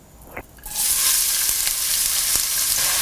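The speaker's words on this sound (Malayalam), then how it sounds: "ഇനി നമുക്ക് ഒരു കുക്കിംഗ് പാനിലോട്ട് 3 ടേബിൾ സ്പൂൺ എണ്ണ ഒഴിച്ച് ചൂടായി കഴിയുമ്പോൾ നമ്മൾ കട്ട് ചെയ്ത് വെച്ചിരിക്കുന്ന 3 സവോളയും" Three sliced onions hit hot oil in a cooking pan, bursting into a loud, steady sizzle after a brief quiet moment with a small clink, the frying hiss continuing close and unbroken to the end.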